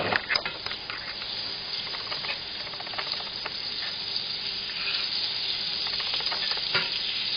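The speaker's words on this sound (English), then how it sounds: "all we're going to be doing is caramelizing the outside of the meat" Moose meat searing in olive oil and butter in a hot pan, a steady close sizzle and crackle with scattered pops, no voices.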